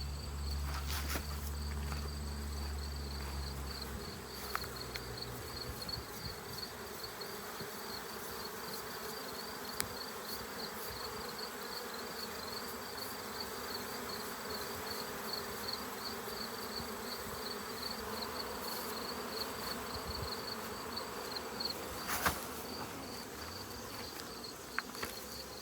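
Honey bees buzz steadily around hive frames during a fall honey harvest: a dense, continuous swarm drone with a low thump near the start and scattered brief knocks, no talk.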